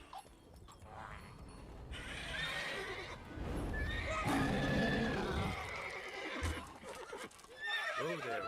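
Roach, Geralt's horse in The Witcher 3, gives a loud, clear whinny in the middle, with snorts, clip-clop hooves and faint game ambience around it.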